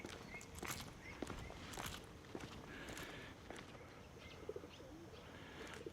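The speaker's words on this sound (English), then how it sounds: "Oh, pigeons. I know them kind of birds." Pigeons coo softly amid scattered footsteps and faint chirps in an outdoor park with a barbecue area in Almería, Spain, the cooing steady and moderately near against an open-air background.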